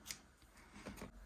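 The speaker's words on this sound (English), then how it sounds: "then cut the yarn and begin here" Scissors snip through yarn during a crochet project, a couple of quiet, brief cutting clicks close by in an otherwise hushed room.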